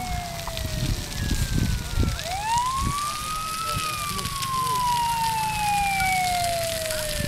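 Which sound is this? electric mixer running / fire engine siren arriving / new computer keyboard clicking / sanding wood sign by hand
fire engine siren arriving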